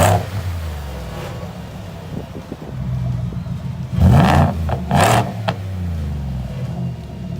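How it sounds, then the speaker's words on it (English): Supercharged Ford XR4 truck engine with its switchable exhaust opened, a steady loud rumble broken by two sharp revs that flare up and fall back, near and with no talking. "all I have to do to engage that exhaust is just push this little button"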